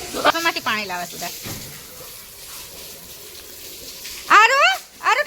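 Water running from a tap or being poured during family Holi play, a steady splashing flow between excited voices, with people talking and shouting loudly over it at the start and end.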